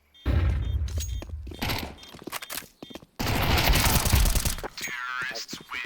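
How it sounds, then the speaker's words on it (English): Flashbang grenade thrown in a Counter-Strike match on de_train, with sharp bursts, gunfire and shattering effects in rapid succession, loud and close, mixed with game noise. "I'm throwing a flashbang."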